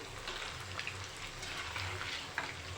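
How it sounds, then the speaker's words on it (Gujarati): Maggi noodle balls frying in oil and being gently stirred, a soft continuous bubbling sizzle with light scrapes from the spoon throughout, close and moderately quiet. "તો હવે આપણે બોલ્સને હલાવી લઈશું આવી રીતે હલાવી લઈશું"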